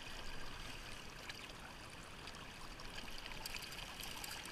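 Water rushes steadily through a gold sluice fitted with a dream mat, running under strong pressure as a continuous, close, broadband wash with no talk.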